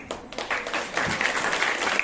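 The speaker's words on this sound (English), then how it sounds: "give a big round of applause" Students at an interclass college quiz break into applause, a short burst of clapping that swells quickly and carries on at moderate volume with some voices mixed in.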